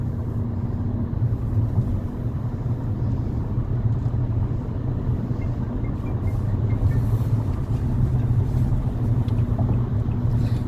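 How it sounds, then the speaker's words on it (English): Inside a 2019 Nissan Altima under acceleration, a steady low engine drone and road rumble hold at an even level for the whole stretch, with no talking. "the engine just rises to a higher RPM as I step on the gas"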